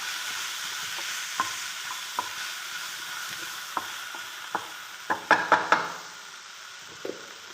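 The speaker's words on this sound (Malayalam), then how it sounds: "നമുക്ക് ഈ മസാലക്കും കുറച്ച് ഉപ്പിട്ട് കൊടുക്കാം. നല്ലോണം ഇളക്കാം." Macaroni pasta masala in a pan, stirred with a spoon over a soft background sizzle, giving scattered light scrapes and knocks that bunch into a quick cluster of louder clatters toward the end.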